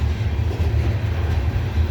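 A CSX coal train rolls past on the old B&O mainline at Parrs Ridge. Its freight cars make a loud, steady low rumble with faint rhythmic clatter, close by and heard alone.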